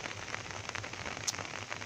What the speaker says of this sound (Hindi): लेकिन अब ऐसी बारिश हो रही है कि मैं गांव में ही फंस गया हूँ